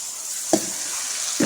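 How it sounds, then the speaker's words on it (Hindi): Mutton pulao masala with tomato and yogurt frying in a pot, a soft even sizzle with two brief stirring scrapes. "अब इसकी होगी भुनाई"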